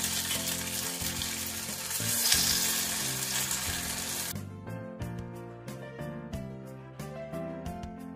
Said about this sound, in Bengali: গ্যাসের ফ্লেমটা একটু কম করে দিয়ে আমি এই কোপ্তাগুলো ভেজে নিচ্ছি